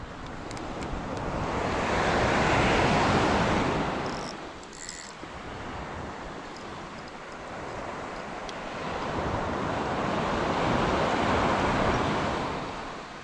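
Waves surge and wash along the seashore in two long swells, rising and falling with wind buffeting the microphone, loud and close with no talking.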